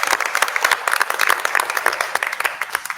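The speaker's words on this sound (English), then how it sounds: "Now you can give a little round of applause for her." Audience applause at a Hillsborough Board of Education meeting: a room of people clapping steadily and fairly close for about three seconds, dense overlapping claps with no talk over it.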